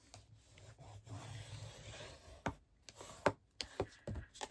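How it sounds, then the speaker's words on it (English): Card being folded and burnished with a bone folder: faint rubbing and scraping strokes give way to several sharp, close taps and creases toward the end, quiet with no talking. "our normal folding and burnishing with bone folder."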